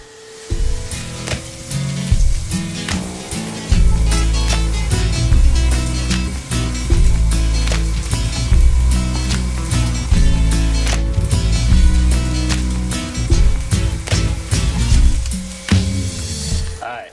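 Bacon sizzles and fries in a hot skillet for bacon jam, a dense steady crackle running throughout with low humming tones and sharp clicks mixed in, loud and close with no talking.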